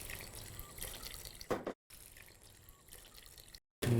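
Water is poured into a pot of Parsi dal dhansak with vegetables, a soft steady trickling and splashing close by, broken by brief cuts, with no talking over it.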